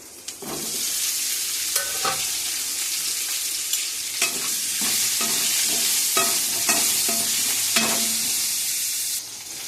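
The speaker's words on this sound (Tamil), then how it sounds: "ஃப்ரை ஆன பிறகு நம்ம கட் பண்ணி வச்சுருக்கிற உருளைக்கிழங்கு கத்திரிக்காய் ஆட் பண்ணிக்கோங்க" Cut potatoes and eggplant frying in oil for a potato kara kuzhambu, with a steady loud sizzle and repeated scraping clicks of a spoon stirring the pan, no talk.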